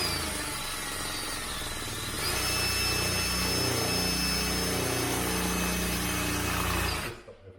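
A power drill bores bolt holes through a sliding window frame for a window lock fitted with a jig, whirring steadily close by for about seven seconds, with the pitch lifting as it bites deeper before stopping.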